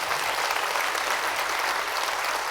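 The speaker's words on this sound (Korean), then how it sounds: "제가 성공했으면 우레와 같은 박수를 부탁드립니다" Thunderous applause from a lecture audience at Seongnam City Hall, a dense, loud, continuous roar of many hands clapping at full strength throughout.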